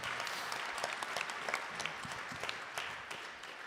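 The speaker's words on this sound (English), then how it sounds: "please give him a round of applause" A gathering at a Bhagavat katha gives soft, fairly distant applause, with scattered individual claps in a steady patter that eases off toward the end.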